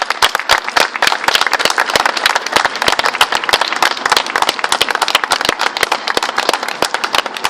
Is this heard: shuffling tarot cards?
no